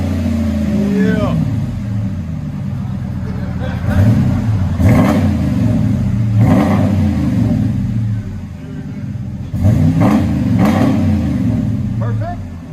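A car engine revs hard through a Flowmaster muffler and X-pipe exhaust, loud and close, with repeated rising and falling revs over a deep rumbling idle, while people talk over it.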